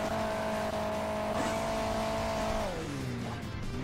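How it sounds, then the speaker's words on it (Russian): Monster truck engine in the mobile racing game Hill Climb Racing 2, a steady loud droning hum held for over two seconds, then dropping in pitch as the truck slows, with no one talking. "На монстр-траке едет."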